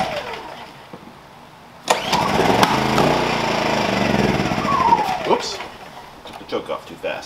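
A Wen 56203i inverter generator, cold and on choke, pull-started: a quick rope pull, then the small engine catches and runs at a steady, fairly loud drone, sputtering and dropping off near the end as someone talks over it.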